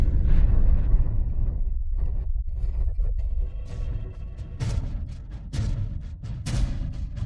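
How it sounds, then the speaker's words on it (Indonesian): Blast blowing up an old tomb, heard as a heavy low rumbling roar that gradually settles, followed by scattered sharp cracks and bursts of debris with a whooshing texture. "Ledakan makam bajingan tua ini."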